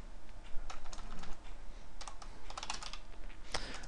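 Quick clicking keystrokes tap on a keyboard in uneven bursts, close by, with short pauses between runs of typing.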